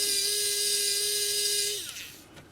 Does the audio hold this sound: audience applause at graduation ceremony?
no